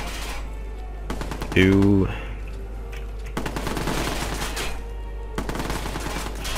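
Watch Dogs video game gunfire comes in several rapid automatic bursts separated by short pauses. A player's voice is heard between the shots.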